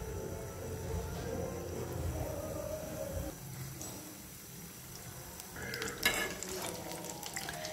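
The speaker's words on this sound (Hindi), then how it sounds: "इस तेल में हम ये पकोड़े फ्राई कर लेंगे" Potato and pea pakoras dipped in gram flour batter fry in hot oil with a constant soft sizzle and bubbling, close and low, with a few faint clinks of utensils near the end.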